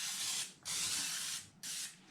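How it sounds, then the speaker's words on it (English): Non-stick cooking spray hisses from an aerosol can onto a 9x13 baking pan in three bursts, a long one, then a longer one, then a short one, close and clear with brief pauses between. "I have non-stick cooking spray that I'm going to treat the bottom of my 9x13 pan."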